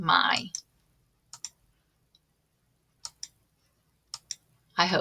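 Computer mouse clicks on a link, sharp isolated ticks in pairs spaced a few seconds apart, close and crisp in a quiet room, with someone talking briefly at the start and end.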